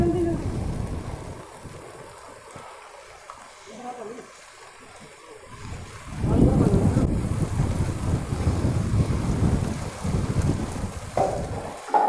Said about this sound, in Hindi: आंधी स्टार्ट।